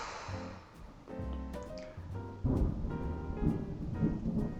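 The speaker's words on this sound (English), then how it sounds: "It's thundering." Thunder rumbles through a storm, low rolling booms swelling and fading in waves with a stronger crack-like surge midway, heard indoors with a steady hiss of rain beneath and no voices.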